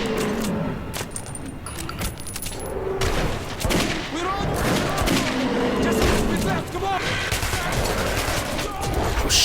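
Shotgun and other gunfire in the first-person shooter Metro 2033 Redux: loud, dense bursts of shots and booms crowd together and run almost continuously, mixed with game noise and clinks.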